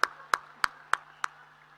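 Five sharp, evenly spaced hand claps ring out in a quick regular rhythm at a police dog demonstration for the dog Golf, each crisp and separate over a faint hum, the last slightly softer.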